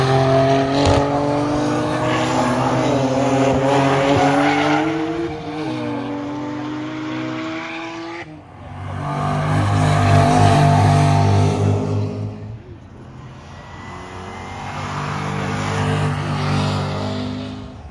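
Two BMW race cars roar around Castle Combe circuit during a German car day, engines loud and sustained with rising and falling revs as they pass, heard alone without talk.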